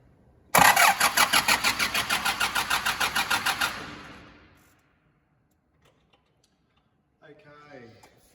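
A car's starter motor cranks the engine in a no-start condition, loud and close, with a steady rapid pulsing rhythm for about three seconds before fading into quiet; a voice speaks briefly near the end.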